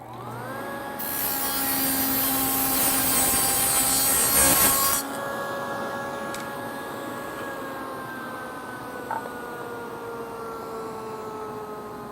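A table saw fitted with a stacked dado blade hums up to speed, then chews through wood in a loud, dense test cut of about four seconds before spinning down with a steady whine under it all.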